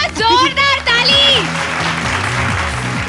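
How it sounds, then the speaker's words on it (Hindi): Audience applause at a singing competition show, rising under loud sung or melodic voice at the start and continuing as a steady wash of clapping. "ओहो, जोरदार ताली।"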